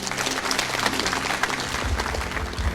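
Church congregation clapping together, a dense, busy patter of hands throughout with low murmuring voices underneath toward the end.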